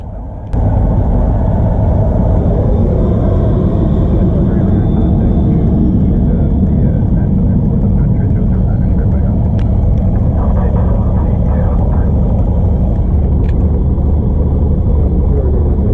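Southwest jet airliner rumbling at full takeoff thrust, a steady loud broadband roar heard from a nearby small plane's cabin, with faint intercom chatter underneath.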